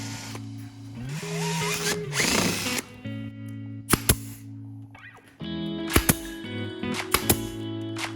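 A power tool fastens the convertible top on a 1963 Buick Skylark, with whirring motor bursts broken by sharp, loud clicks and snaps, heard close up without speech.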